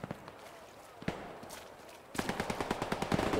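Rapid machine gun bursts from a mounted MG in the World War II shooter Hell Let Loose, sporadic at first then a fast, steady volley of close, sharp shots, with a voice talking over the opening.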